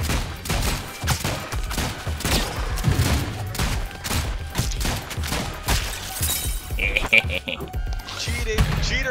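Rapid cartoonish gunfire bursts from the video game ROUNDS crackle in a dense, continuous stream with shattering hits and a few higher zaps near the end, while players talk loudly over it.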